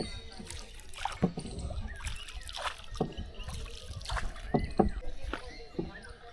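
A rowboat paddled through water on a jungle safari at Bibhutibhushan Wildlife Sanctuary, with repeated splashes and drips from the oars at an uneven rhythm, close by, while people talk over it.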